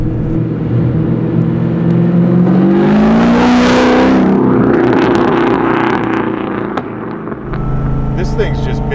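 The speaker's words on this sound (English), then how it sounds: "I've got a nice blend of hearing the blower," A supercharged 725 hp LS9 engine in a 1971 Camaro restomod revs up and settles, a whining blower over a deep exhaust rumble, loud and close, with faint voices underneath.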